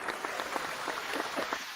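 Canned applause effect played during a talk show interview, quiet and brief, a soft patter of clapping that stays low and even throughout.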